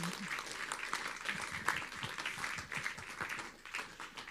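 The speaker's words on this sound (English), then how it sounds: "Please keep clapping for all of you" A meeting audience applauds in a quiet, continuous patter of many hands, heard from a distance and tapering slightly toward the end, with faint voices mixed in.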